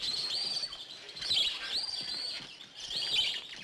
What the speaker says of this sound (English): No, those are redbirds.